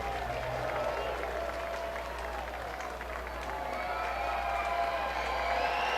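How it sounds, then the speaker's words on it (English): Ballpark crowd at a Lehigh Valley IronPigs versus Worcester Red Sox game swelling into a steady roar during a tense top of the ninth, a broad continuous wash of cheering and applause from the stands with no break. "and the crowd gets loud."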